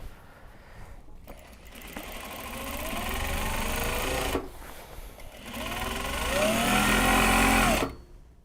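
A sewing machine stitching canvas for a Japanese fabric tote bag, running in two loud bursts of whirring needle chatter separated by short pauses.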